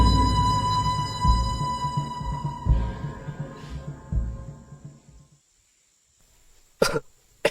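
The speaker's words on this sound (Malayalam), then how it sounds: "എന്താടാ ചുമക്കുന്നേ?" A man coughs several times in a rough, chesty way during a casual drinking session among friends, fairly close and loud. A long quiet stretch follows, then a couple of sharp sounds near the end.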